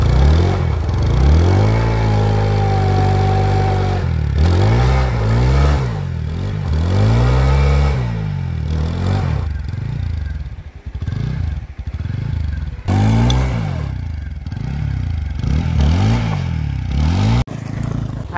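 A motorcycle is revved again and again in loud, surging bursts while it is pulled out of a difficult spot, with scraping and clatter between the revs.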